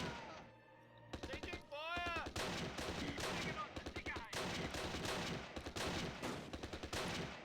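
Rapid bursts of gunfire from soldiers in the Close Combat war game, set at the Arnhem rail bridge, crackle in dense repeated volleys across the whole stretch, with someone talking over the shooting.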